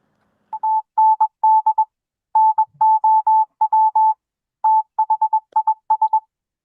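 Touch-tone phone dialing used as a sound effect for a boxing news segment's rumor hotline: a run of roughly twenty clean keypad beeps in quick bursts and short groups, loud and isolated with no talk.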